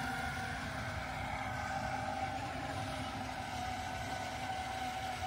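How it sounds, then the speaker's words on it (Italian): A steady, droning motor hum runs without pause, a model racing boat engine idling at a constant pitch as it warms up, with no voices over it. "così scaldiamo il motore."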